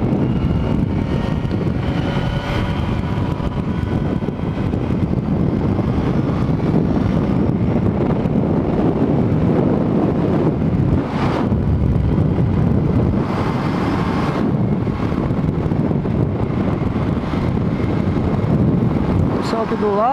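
Steady, heavy wind buffets the rider of a Yamaha XJ6 motorcycle on the road, a dense roar with low engine rumble beneath and faint voice at times.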